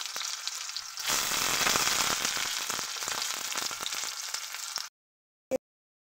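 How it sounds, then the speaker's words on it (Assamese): Green chillies and onions hit hot oil with panch phoron in a wok and burst into a loud, close, crackling sizzle that holds steady for several seconds, then stops, followed by a single short knock. "এতিয়া জলকীয়া আৰু পিঁয়াজখিনি দি দিম।"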